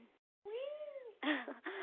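A cartoon cat in the Poptropica game, 24 Carrot Island, gives a short blip and then a drawn-out rising-falling meow, followed by two louder, rougher meows close up. No talking.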